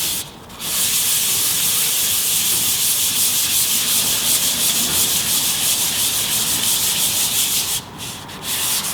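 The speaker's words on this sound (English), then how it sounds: "grab yourself a piece of used sandpaper and just slightly, and I do circular motions, just slightly kind of rub this" Old, well-used 220 grit sandpaper is rubbed in circular motions over a finished surface, a loud close steady scratchy hiss that runs nearly unbroken, with short pauses at the start and near the end.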